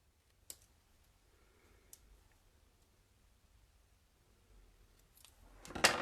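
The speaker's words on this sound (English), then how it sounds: "Of course, Courtney, bit of fussy cutting." Scissors fussy cutting paper for a card design, faint sparse snips and clicks close by in a quiet room, building to a louder rustle of paper at the end.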